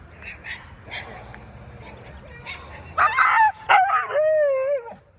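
A husky at a dog park yips and whines, then breaks into loud, wavering howls aimed at small dogs next door, with a person talking quietly in the background.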